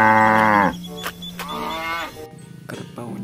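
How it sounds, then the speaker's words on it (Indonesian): A deep, loud low from a water buffalo plowing close by, followed by a second drawn-out moo and a shorter call, with faint rustling between them. "di sini ada kerbau"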